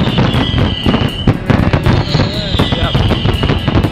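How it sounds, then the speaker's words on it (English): Fireworks burst in a rapid crackling barrage of many sharp pops and bangs, loud and continuous, with whistling rockets rising over them and voices talking underneath. "Fireworks are now used primarily as a form of entertainment."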